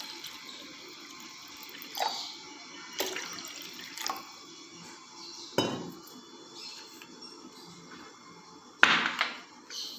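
Water trickles steadily into a bowl of sour yogurt being made into a drink, broken by a few sharp clinks of a spoon or vessel against the container, all at close range without speech.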